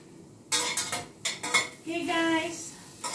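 Ham and baked beans are sauteed in a pan, a utensil scraping and clinking against the metal in quick uneven strokes, with a soft sizzle underneath and a brief rising tone near the end.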